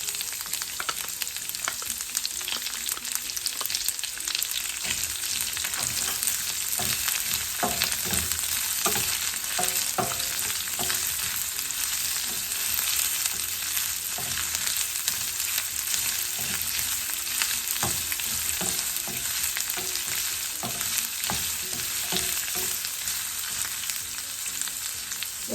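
Chopped white onion stir-frying with garlic in a hot pan gives a steady, close sizzle with scattered crackles and stirring scrapes throughout, no talk.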